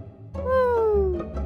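A cartoon cat gives a single clear meow with a falling pitch, loud and close over faint background music.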